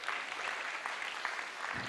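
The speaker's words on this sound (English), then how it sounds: "give yourself a massive round of applause" Applause from a crowd at a hackathon closing ceremony, a steady wash of clapping hands at moderate volume throughout.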